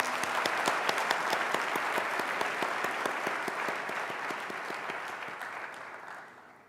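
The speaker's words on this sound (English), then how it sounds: "Shall we clap again?" An audience at a student recognition awards ceremony claps in a brisk, rhythmic unison beat. The loud, even pulse holds steady, then fades gradually toward the end.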